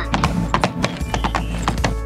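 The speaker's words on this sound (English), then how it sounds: "Can you call over your horse?" A horse clip-clops with quick, close hoof strikes on a hard surface in a rapid uneven rhythm, with a short whinny mixed in among the steps.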